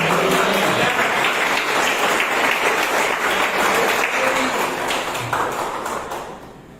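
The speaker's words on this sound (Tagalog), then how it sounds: "Palakpakan natin ang Panginoon." A church congregation applauds together in dense, close clapping that fades away near the end.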